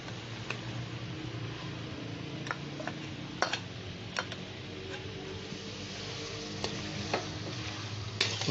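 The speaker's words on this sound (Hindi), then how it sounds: "इसको अभी मैं मक्खन डालता हूँ" Butter melts and sizzles in a pot of chicken handi, a soft steady frying hiss with scattered spoon taps and clicks against the pot, fairly quiet and continuous throughout.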